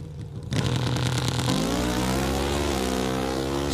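Pro Stock drag-racing motorcycles launching off the line at eliminations, a sudden loud high-revving engine scream that rises in pitch through quick gear changes, close and sustained.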